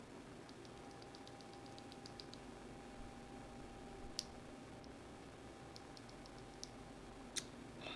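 Keys on a Grid650 keyboard with Gateron Black Ink switches and GMK keycaps are typed in faint, quick clusters of soft clicks, with gaps between bursts over a low background hum.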